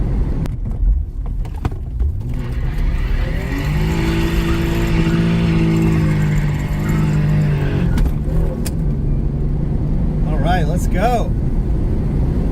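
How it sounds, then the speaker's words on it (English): A lowered car peels out in second gear, the engine revving hard and rising in a long loud sweep that holds for several seconds before easing off, with people talking and cheering around it. "A little second gear peel out right there on that Yui."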